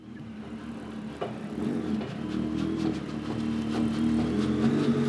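Steady drone of a 1981 Toyota Starlet with a Hayabusa engine swap on the move, engine and broken differential rumbling with faint clunks and rattles rising slightly as it goes.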